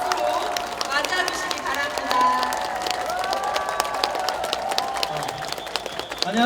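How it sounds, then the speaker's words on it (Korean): Applause from a crowd at an outdoor campaign rally near Geumneung Station in Paju, South Korea, as an economic commentator is welcomed; steady clapping and cheering runs throughout, mixed with music and voices. "박수로 맞아주시기 바랍니다."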